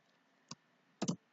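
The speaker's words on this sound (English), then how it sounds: "here right click, insert text object" A computer mouse is clicked in a quiet room. One single click is followed by a quick double click, all faint and close.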